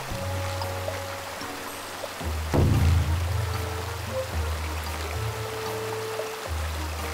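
Steady rushing of a small mountain stream stocked with yamame trout, flowing nearby at a campsite, continuous and fairly loud, with a brief surge of splashing partway through.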